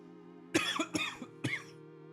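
A person coughs close to the mic in a quick burst of about three or four harsh hacks over a steady low electrical hum, then falls quiet.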